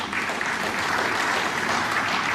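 Snooker crowd applause at the 2016 German Masters semi-final, a steady, moderately distant patter of many hands clapping for a couple of seconds.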